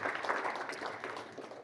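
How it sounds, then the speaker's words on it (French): A short burst of audience applause for a communications team at a political movement gathering, fairly faint and distant, steady clapping without speech. "Alors, oui, vous pouvez les applaudir."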